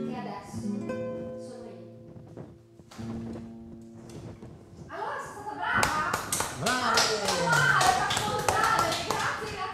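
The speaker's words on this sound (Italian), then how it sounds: "Grazie nell'applauso spontaneo." Spontaneous applause from a live audience, quiet tapping and scattered claps that swell into fuller, louder clapping in the second half, with a voice speaking early on.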